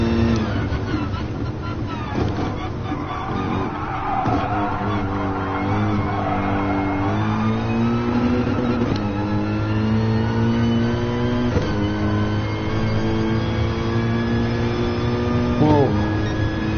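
A Mercedes AMG GT racing engine in the GT Sport video game drones steadily and loudly throughout, its pitch climbing and dropping with gear changes and revving.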